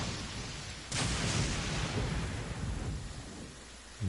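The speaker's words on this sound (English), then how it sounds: "This heavy rain must be quite an inconvenience" Heavy rain pours steadily in a Genshin Impact game scene, with a deep rolling thunderclap swelling in about a second in and rumbling on for several seconds under the downpour.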